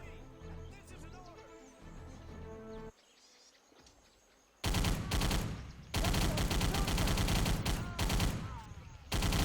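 A Thompson submachine gun fires in a video game, long loud bursts of rapid automatic gunfire after a quieter stretch with ambient game sound and birds chirping.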